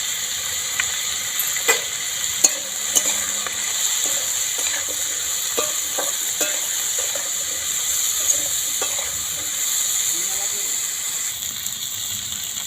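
Potato pieces and eggs stirred in a frying pan, a steady hiss of frying with occasional soft scrapes and taps of the spatula, fairly close; a voice talks faintly at times.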